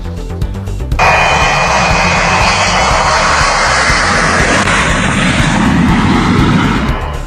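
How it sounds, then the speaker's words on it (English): Cargo plane roaring down a runway in Colombia on a failed takeoff before crashing, its loud engine noise kicking in after a second and holding steady and close throughout. "the plane speeding down that runway, as you saw, failing to gain enough altitude, crashing into the ground in Colombia"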